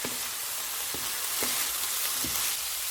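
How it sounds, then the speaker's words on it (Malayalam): Chicken fried rice with soy sauce and pepper powder stirred in a pan, a steady broadband frying hiss broken by four or five soft scraping strokes of the spoon at an even pace, no voices. "എന്നിട്ട് നമുക്ക് നല്ലതുപോലെ ഒന്ന് മിക്സ് ചെയ്ത് കൊടുക്കാം"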